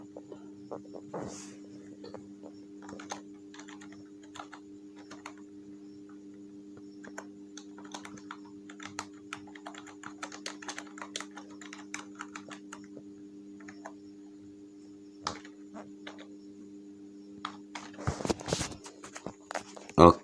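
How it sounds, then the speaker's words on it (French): Scattered keystrokes on a computer keyboard, including presses of the tab key, come as sparse clicks over a steady electrical hum, with a louder burst of clacking toward the end. "on appuie sur la touche tabulation."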